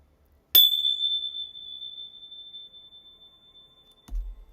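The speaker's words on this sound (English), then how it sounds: "I cannot keep these bells in my hands properly today." A single hand bell is struck once, ringing out with a clear bright tone that fades slowly over several seconds in near silence, followed by a soft low thud.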